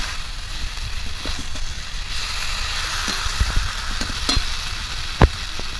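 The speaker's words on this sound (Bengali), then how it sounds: "একদম হালকা হাতে একটু নাড়াচাড়া করে নেব।" Fried fish pieces being stirred gently in hot oil for a Bengali fish curry, a steady sizzle with scattered spatula scrapes and one sharp clack near the end.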